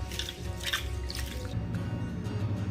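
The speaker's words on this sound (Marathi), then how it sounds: "याला चांगलं दोन तीन पाण्याने आपल्याला धुवून घ्यायचा" Rice for Maharashtrian jeera rice is washed by hand in water, with soft drips, splashes and sloshing close up, no voices.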